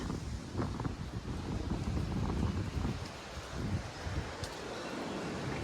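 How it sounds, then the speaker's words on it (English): Strong wind blows outdoors on a cleared path beside a pile of twigs, roaring steadily and buffeting the microphone with low rumbling gusts for the whole stretch, with no voices. "And there goes the wind"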